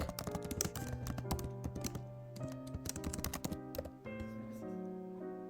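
Rapid keyboard typing on a computer while entering a title, a dense run of close, crisp key taps with brief pauses and no voice.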